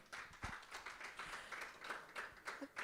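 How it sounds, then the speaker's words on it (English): An audience at an outdoor graduation demo day applauding themselves: soft, steady, somewhat distant clapping from a group, with irregular louder claps throughout. "Let's applaud ourselves"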